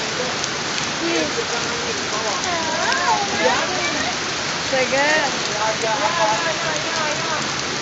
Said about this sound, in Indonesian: Maksudnya hujan es dari atas.